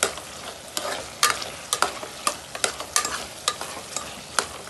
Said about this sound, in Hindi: 1-2-3 मिनट भून लिए ये पत्ता गोभी के गोश्त को